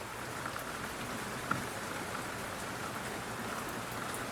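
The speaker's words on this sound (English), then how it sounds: "Rain on the roof tiles. Rain on the bamboo leaves." Steady rain falls on roof tiles and bamboo leaves, a soft, even patter of drops with one brief brighter drip, continuous and fairly quiet throughout.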